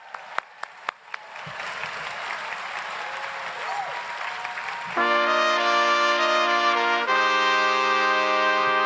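An audience at a graduation ceremony gives sustained applause for prize winners, dense clapping for about five seconds before it gives way to loud sustained music.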